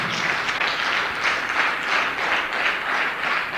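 A seated audience of roughly 150 to 200 people at a direct-selling business seminar breaks into steady, dense applause, a continuous wash of many hands clapping at even loudness with no talk over it.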